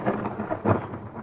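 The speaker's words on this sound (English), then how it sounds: "We just had thunder" Thunder rumbles low and loud through a continuous roll that swells partway through, with rain falling underneath and no voices heard.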